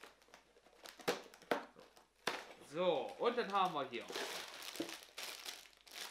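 Plastic bags from a Lego Super Heroes Iron Man set being crinkled and torn open, with sharp crackles and rustling under a man's speech.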